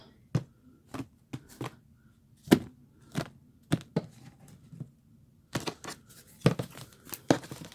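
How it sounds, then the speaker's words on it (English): Tarot cards being shuffled and cut by hand, a run of sharp papery flicks and riffles, close and fairly loud, in irregular bursts with a quick flurry near the end and no talking. "I'm going to cut these cards."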